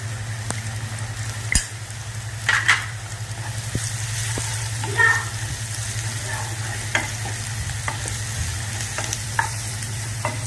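Spices with red chilli powder and turmeric sautéing in a pan, a steady close sizzle under a low hum, with occasional scraping stirs and light clinks.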